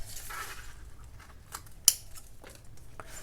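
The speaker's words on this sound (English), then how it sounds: "I'm cutting this. And then I just need to cut right here." Scissors snip through cereal box cardboard at close range: a few quiet cuts, then one sharp, loud snip near the middle and fainter cuts after it, with no voices.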